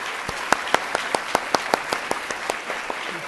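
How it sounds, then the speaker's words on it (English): At the Children's Literature Association awards banquet, a small audience gives a round of applause. A handful of distinct, crisp claps ring out over a soft bed of quieter clapping. "So please give them a round of applause."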